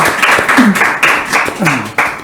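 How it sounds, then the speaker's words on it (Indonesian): Studio audience clapping to welcome a guest on an Indonesian television show, a short burst of sparse, rhythmic claps close by with a few voices underneath. "Beri tepuk tangan."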